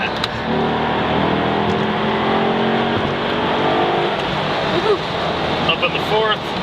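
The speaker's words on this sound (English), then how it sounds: "you'll hear this engine just breathe on the way out of here" Maserati engine pulling hard out of a turn during a test drive, a steady loud drone with a rising rev toward the end, heard from inside the car with some broadband road noise.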